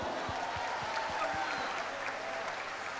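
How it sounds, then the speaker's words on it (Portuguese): Congregation clapping in steady rhythmic unison during a church service, moderately distant and filling the room, with no voices standing out. "Aplauda o Senhor."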